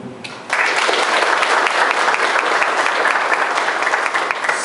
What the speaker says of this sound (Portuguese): peço a salva de palmas